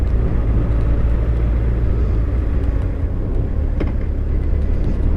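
A Honda CB1100 motorcycle rides along a main road with a steady, loud, low engine rumble and wind noise, continuous throughout with no talking.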